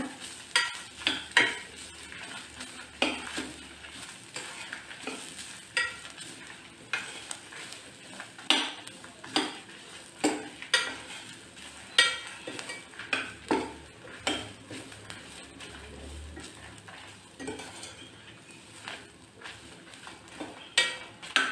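Poppy seeds and grated coconut are stir-fried in a pan for tomato kurma, with repeated spatula scrapes and taps over a faint, quiet sizzle.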